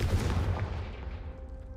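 Confringo fire spell in the video game Hogwarts Legacy goes off as a single loud, booming blast that fades out over about a second and a half, with no voices.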